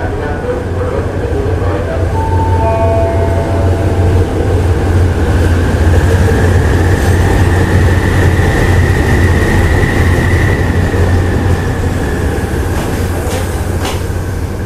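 Shunting locomotive hauling the Thaksinara night train, a steady, loud engine drone with a low rumble and a faint whine, continuous throughout with light rail noise.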